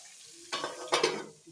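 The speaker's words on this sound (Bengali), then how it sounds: "ঢাকা দিয়ে মিডিয়াম জালে আমি ভাজবো পটলগুলো" Pointed gourd (potol) frying covered in a pan over medium heat: a faint, steady sizzle with two brief louder bursts of crackling spatter, close by and with no talk.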